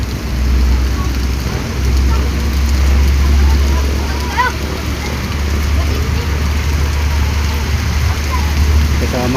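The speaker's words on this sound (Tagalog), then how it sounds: "Lakas ng ulan." Steady heavy rain drums on a moving vehicle in a storm with lightning, a loud continuous roar with a low road rumble beneath and faint voices at times.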